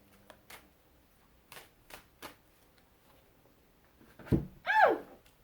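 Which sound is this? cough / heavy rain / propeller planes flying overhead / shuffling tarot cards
shuffling tarot cards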